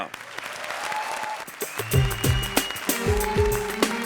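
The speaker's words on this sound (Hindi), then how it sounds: "जोरदार तालियां." A studio audience on a comedy show claps to welcome the first contestant, applause mixed with loud music hits and stings that build across the clip.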